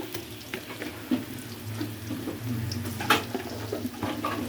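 Shrimp frying in a pan for a Malabar spinach (puishak) and shrimp dish, giving a steady low sizzle with a few clinks and stirring scrapes from a utensil, fairly faint and with no talking.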